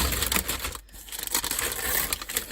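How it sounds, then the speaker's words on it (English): Paper packaging of a sealed 1989 LEGO set is torn and crumpled up close in quick bursts, a crackly rustling noise with a brief pause partway through. "Ripping paper."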